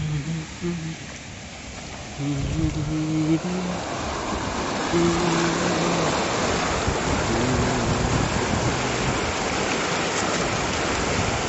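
Dense, steady wash of heavy rain fills the scene with a broad roar, while a voice speaks over it in the first few seconds.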